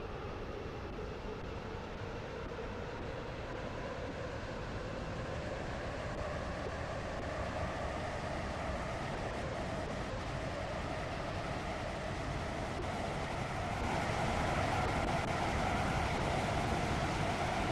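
A Class 707 train running in the Roblox railway game Stepford County Railway: a continuous, steady rumbling drone of wheels and motor that holds even throughout and swells slightly near the end, with no voices.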